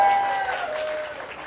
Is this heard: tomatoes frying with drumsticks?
no